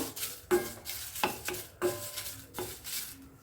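Curry leaves crackle and sizzle as they fry in a pan, with short scraping stirs coming in a loose rhythm, close and moderately loud, without talk.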